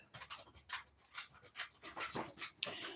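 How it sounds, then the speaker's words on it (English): A dog pants close by in quick, rhythmic breathy huffs that repeat steadily throughout, with no talking. "There goes a dog."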